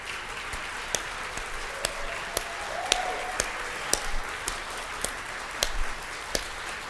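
Scattered applause from an audience honoring a board at a closing ceremony, sparse individual claps over a soft background murmur, moderately distant.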